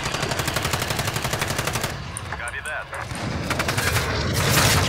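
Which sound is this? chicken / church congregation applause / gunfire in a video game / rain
gunfire in a video game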